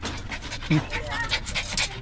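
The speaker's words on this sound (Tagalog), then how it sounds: "may ang cute na aso dito" A dog pants rapidly and close by in quick, rhythmic breaths, with people talking over it throughout.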